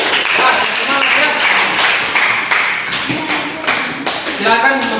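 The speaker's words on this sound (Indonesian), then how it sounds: "Berikan tepuk tangan kelompok 3" Students in a classroom clapping for a presenting group, a brisk close patter of hands with some rhythmic, unison-like beats and voices mixed in.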